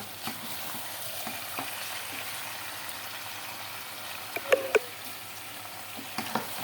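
Chopped vegetables fry in a pan with a constant soft sizzling hiss, broken by a few light clicks and scrapes from stirring.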